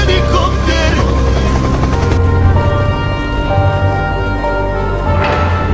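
Loud, continuous helicopter rotor drone with a steady whirring hum from a Skibidi Toilet animation, filling the whole stretch with a bright mechanical tone.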